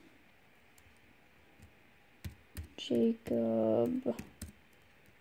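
Fingers type on a Lenovo IdeaPad Yoga 13 laptop keyboard, a run of close, sharp key clicks, with someone speaking briefly in the middle of the typing.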